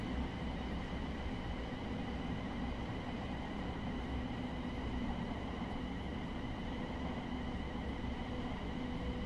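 Class 700/0 electric multiple unit running in Train Sim World 3, with a steady, continuous rumble and hum under an even background drone and no talk.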